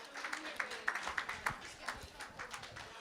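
Audience applause at a charity dinner, heard faintly as scattered, distinct hand claps in an uneven rhythm, with a few sharper claps standing out and voices murmuring faintly in the room.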